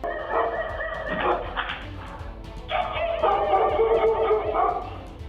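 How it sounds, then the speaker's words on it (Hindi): Several dogs bark and yip in bursts, fairly close, with short pauses between volleys and a faint background hum, after a leopard was seen inside a house. "फिर कुछ कुत्ते भौंकने लगे"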